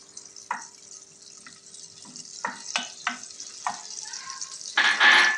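Two cubes of butter melting in two spoonfuls of oil in a pot, before rice is added, give off a faint crackle and sizzle with scattered pops and clinks, ending in a louder burst of sizzling.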